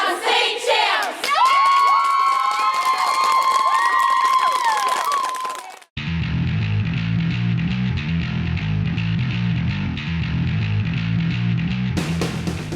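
A crowd at a competitive cheer jamboree roars with high-pitched shouts, whoops and cheering, loud and sustained, before the sound cuts to a different steady crowd din with a lower, rumbling character.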